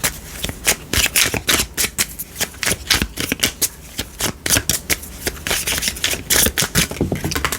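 Tarot cards shuffled by hand during a love reading, a rapid run of crisp riffling and slapping bursts that repeats steadily and close up, with no talking over it.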